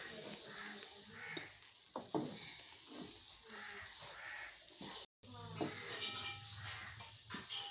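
Besan and semolina roasting in ghee over low heat for panjiri, a soft, steady sizzle with occasional stirring scrapes, continuous under the mix at moderate level.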